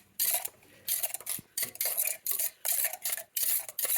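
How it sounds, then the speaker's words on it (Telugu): Egg yolk is whisked hard in a bowl, the utensil scraping and clinking in quick regular bursts about twice a second, close and distinct with no voices. "ఇది ఎల్లో ఏపుని బాగా బీట్ చేసుకోవాలి"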